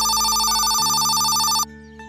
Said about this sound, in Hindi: काका, आपका फोन आ रहा है, बात कीजिए।